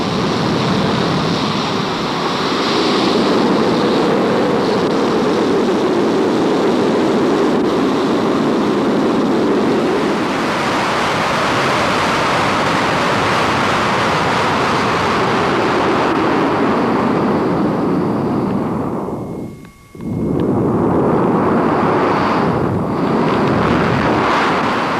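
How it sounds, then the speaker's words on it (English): Steady wind rushes over the sleek white fiberglass fuselage of a sailplane soaring during an airshow, a loud, continuous broadband whoosh that swells and fades slightly, with a brief dip near the end and no voices. "His only company, the rush of the wind on the sleek white fiberglass fuselage of his sailplane"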